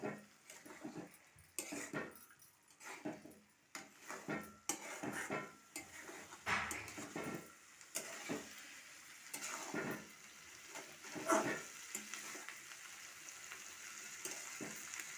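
Spoon stirring an egg paneer mixture with ground cumin and coriander in a pan, soft irregular scraping and clinks over a quiet sizzle, close and fairly faint.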